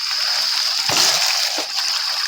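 Water runs strongly after rain and pours with a loud, continuous rushing splash near a drum outdoors, with a couple of brief heavier sloshes.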